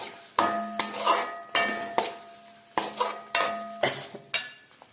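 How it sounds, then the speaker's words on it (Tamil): Metal spoon scraping and clinking against a pot of sardine (mathi fish) curry with tamarind water, in repeated strokes, with a faint sizzle underneath; no voices. "நல்லா கிளறி விடுறேன்."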